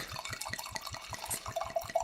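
Wine glugs from a bottle into a glass, a quick series of soft rhythmic gurgles, close and quiet.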